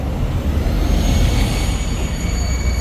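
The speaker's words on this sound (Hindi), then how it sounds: "मेट्रो बस जा रहे।" A metro bus passes near Masjid al-Haram in Mecca in the early morning, a steady loud engine rumble with broadband road noise that swells slightly and holds.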